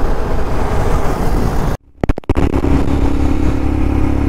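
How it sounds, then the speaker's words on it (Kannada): Motorcycle cruising on an open highway, a steady engine drone with wind rush, briefly cut out for a moment before the engine sound resumes, loud and close. "ನಾನೀಗ ನಮ್ಮ ಶೆಟ್ಟಿದು ಗಾಡಿ ಹಾಕೊಂಡು ಹೋಗ್ತಾ ಇದ್ದೀನಿ"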